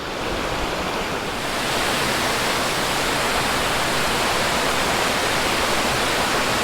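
Forth Falls near Wilmot, Tasmania, a waterfall pouring into Lake Barrington, roars as a steady, dense wash of rushing water close by, unbroken and full for the whole stretch with no voices.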